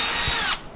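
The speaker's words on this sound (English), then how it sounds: "I think I'm going to drill here." A power drill bores a hole in pipe for a water fitting on a tank's automatic water-change plumbing, a loud steady whine that cuts off sharply near the end, leaving quiet room tone.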